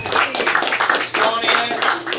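An audience at an open mic night at a brewhouse gallery claps for a performer, a brief burst of dense, close applause.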